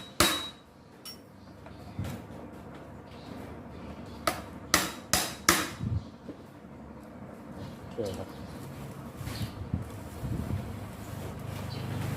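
Sharp metallic hammer taps while replacing the gear head of a brush cutter, a quick run of five or six strikes in the middle among scattered knocks and handling noise, with someone talking throughout.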